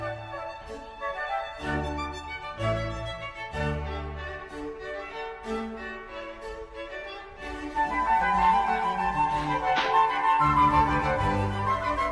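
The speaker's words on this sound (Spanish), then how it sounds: "ya llegamos al barroco, que ya es esta musiquita que suena así" A Baroque instrumental passage plays steadily on its own, with layered melodic lines over a moving bass, growing somewhat fuller and louder in the second half.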